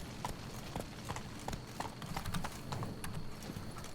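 Hooves of Roach, the horse in the video game Witcher 3: Blood and Wine, clip-clop in a steady rhythmic trot, moderately loud over a soft game ambience.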